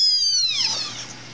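A young street kitten gives a single loud, high, drawn-out meow that slides downward and fades, heard close and alone.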